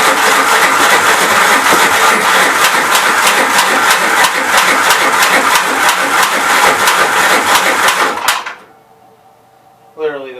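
A 1969 Gravely C8 walk-behind tractor engine runs loud and close with a rapid, steady rattling putter, then cuts out near the end, leaving quiet before a brief clatter; the throttle cable has just broken.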